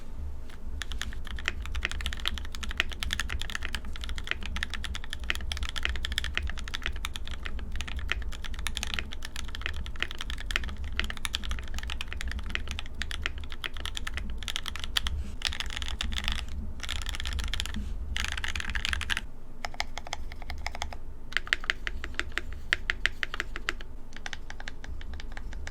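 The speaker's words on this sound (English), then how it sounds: "Typing on this board is insanely smooth" Continuous typing on a Tofu65 custom mechanical keyboard fitted with Banana Split switches, a steady stream of close, crisp keystrokes for about 26 seconds with no talking.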